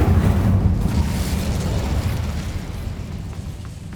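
Incendio fire spell cast in Hogwarts Legacy, a loud whooshing burst of flame that starts full and slowly fades over a few seconds.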